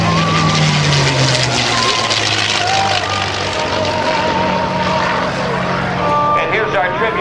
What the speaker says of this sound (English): here's our tribute victory roll blown by Air Force Academy graduate, former F-16 demo pilot, Geoff Hickman.